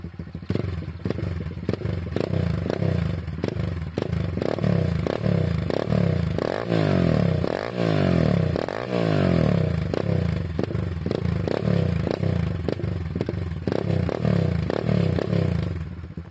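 A YCF Pilot pit bike from 2020 runs close by with a loud, rapid, popping idle, its pitch rising and falling through several short revs.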